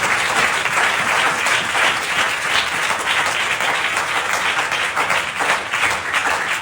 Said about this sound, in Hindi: हम जोरदार तालियों का स्वागत करें।